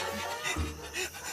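A dog pants in quick, breathy, rhythmic huffs, close and fairly loud, in a brief comedic scene with no talking.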